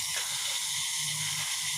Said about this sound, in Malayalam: അതാ ചായ തിളച്ചു തുടങ്ങിയിട്ടുണ്ട്.